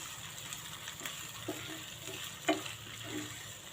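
Taro (mukhi kochu) frying in a pan, a faint, steady sizzle with occasional light scrapes and clicks of a spatula.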